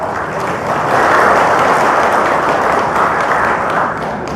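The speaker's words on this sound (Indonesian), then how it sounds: "Tepuk tangannya teman-teman partai tidak." Audience applause at a PDI Perjuangan regional party conference in Aceh, loud continuous clapping from a large hall crowd, swelling slightly then holding steady.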